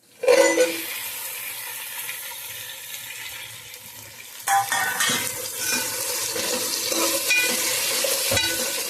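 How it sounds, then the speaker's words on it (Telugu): Okra tossed into a pan of frying onions and green chillies: an initial clatter, then steady sizzling and stirring that jumps louder around midway, continuing close and busy with no talk. "ఉల్లిపాయలు పచ్చిమిరకాయలు అయితే వేగినాయండి ఇప్పుడు బెండకాయలు వేస్తున్నారు"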